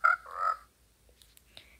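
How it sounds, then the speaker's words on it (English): Frogs in the Minecraft video game let out a pair of close, croaking calls, then a few faint clicks and chirps, with no one speaking. "now we have frogs."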